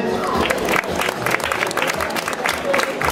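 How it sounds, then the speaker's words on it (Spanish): Applause from an audience at an urban mile race event in Novelda, a loud dense wash of clapping filling the whole moment, with a voice partly audible underneath. "Otro aplauso para él."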